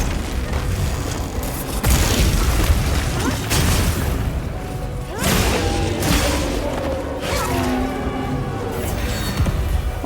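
Arch-Tempered Rey Dau unleashes its Big Bang explosion attack in Monster Hunter Wilds, a run of loud booming blasts and heavy thuds with crackling bursts, repeated over several seconds and surging again midway.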